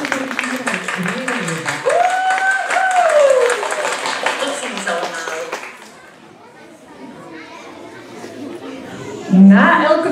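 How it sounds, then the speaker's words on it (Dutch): Applause for all the participants of a children's contest, a broad wash of clapping blended with crowd chatter and a voice over it, easing off midway before a brief louder burst near the end. "Applaus voor alle deelnemers."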